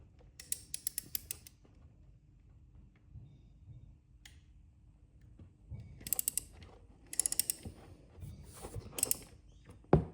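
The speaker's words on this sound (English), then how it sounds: "So we have to remove those 4 screws." A ratchet clicks in quick bursts while four screws are backed out of the oil filter plate on a Ducati Diavel motorcycle, with quiet gaps and small metallic handling sounds between the close, sharp runs of clicks.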